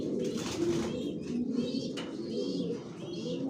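Racing pigeons in a loft, including a down-shave cock sitting on eggs, coo steadily in soft, throaty bursts close by, with faint chirps and rustling and no talk.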